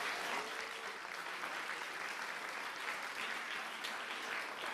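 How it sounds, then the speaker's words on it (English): An audience at a startup demo day applauds, a steady, full wash of many hands clapping throughout with no break and no voices on top. "give a big applause for our startups"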